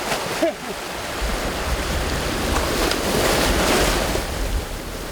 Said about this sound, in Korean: 썰물이라고는 하지만 파도는 여전히 매서운데요